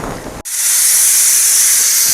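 A pressure cooker whistle on a gas stove, cooking village-style country chicken curry or ragi sangati, shrills out with a sudden loud, steady hiss of escaping steam that holds strong after a brief quiet start.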